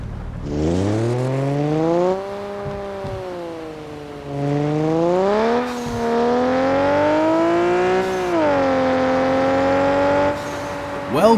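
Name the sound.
Stock Chaser car engine revving in video game CPM2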